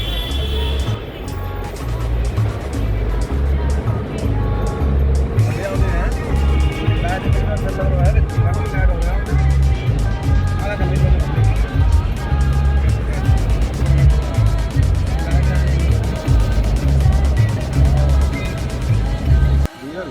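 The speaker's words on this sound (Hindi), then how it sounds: "अब गाड़ी इस टनल के अंदर जाएगी।" A car drives toward and into a 9 km long road tunnel on the route of the Amarnath Yatra, its engine and road noise rumbling steadily throughout while passing vehicles add whooshes and a voice talks over it.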